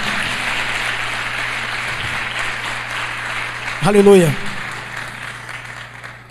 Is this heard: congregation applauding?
yes